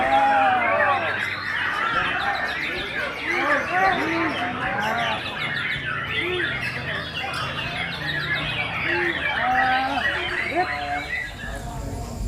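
A murai rawit songbird, a young Aceh-type magpie-robin kept by a farmer, sings busy varied chirps and whistles throughout, with voices of people talking mixed underneath.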